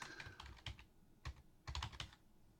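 Quiet keystrokes tap on a computer keyboard in irregular clusters, a few quick clicks, then a pause, then another short burst, close and fairly soft with no talking.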